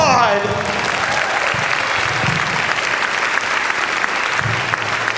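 An audience bursts into loud, sustained applause after a stunt performance, continuous clapping with faint voices and a brief vocal cry at the start.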